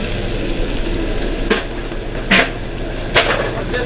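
Scallops sizzle in a hot pan with a steady, close frying hiss, broken by three short scraping or tapping sounds from a utensil against the pan.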